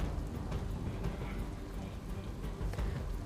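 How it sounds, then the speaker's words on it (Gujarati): Heavy monsoon rain in Ahmedabad, a faint, dense wash of falling rain with scattered drop patter, continuous throughout the short stretch. "તો બોપલ, ઘુમા અને ગોતા વિસ્તારમાં પણ ભારે વરસાદ વરસી રહ્યો છે।"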